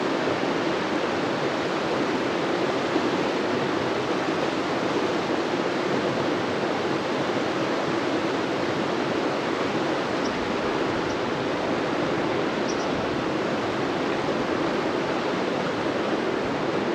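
River water flowing on a California fishing trip: steady, broadband rushing wash, constant and fairly near, with no talking.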